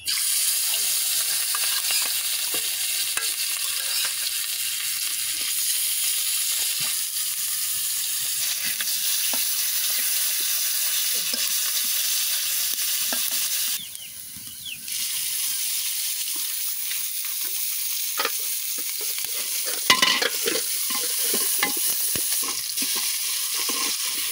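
Fish frying in hot oil, a steady bright sizzle that runs throughout with brief pops and a short dip in intensity midway, no talking.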